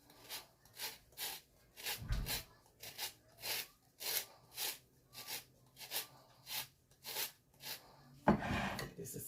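Lemon being grated for zest for oatmeal bread: steady, rhythmic rasping strokes, about a dozen in quick succession, close and fairly loud, with a heavier bump near the start and a louder scrape at the end.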